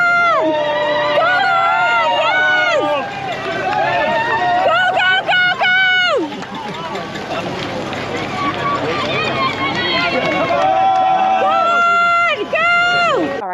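Roadside spectators at the Tour of Flanders cycling race cheer passing riders with loud, continuous shouts and screams from several voices close by, surging in waves with short lulls.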